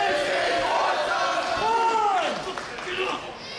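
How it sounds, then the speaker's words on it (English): Wrestling crowd in Chamonix roaring and cheering continuously through a match finish, dense and loud, with a commentator's voice riding over it. "Listen to that, the Chamonix crowd."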